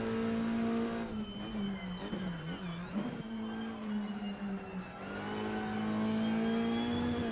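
Simulated 2008 Skoda Octavia Cup Car racing at Donington in Assetto Corsa, its engine holding a loud steady drone, dipping and rising through gear changes and revs, alone with no voices.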